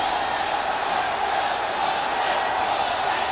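A large crowd fills a Houston stadium at the Howdy Modi event, producing a continuous dense roar of voices and distant cheering with no distinct single speaker.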